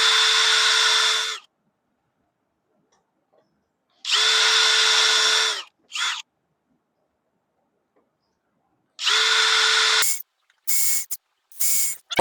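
A power drill bores holes in a mailbox face plate, three long whirring bursts separated by silence, then several short stop-start pulses at close range.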